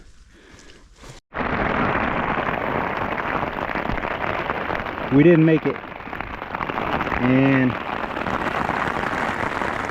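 Heavy monsoon rain pounds on a tarp at an elk archery camp in Colorado, a sudden dense hiss that starts abruptly and stays loud and steady, with people talking close by.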